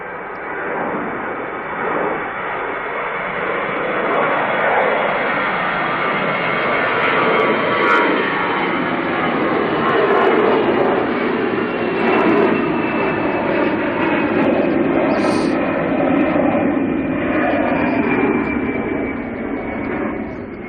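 A Virgin Airbus A330 jet rolls out at Manchester Airport, a loud, sustained roar and whine of its engines that holds steady throughout.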